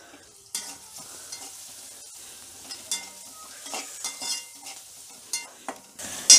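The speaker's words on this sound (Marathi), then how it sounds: "हिंग असं तेलातच फोडणीमध्ये टाकायचं" Asafoetida and onion sizzle in hot oil during tempering for a yellow potato bhaji, with a steady crackle, irregular louder bursts of spitting, and stirring clinks near the end; no one speaks.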